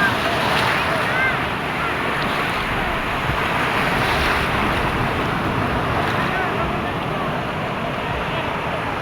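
Ocean surf washes at La Union beach in a steady, broad roar, with wind buffeting the microphone and no distinct individual wave breaks standing out.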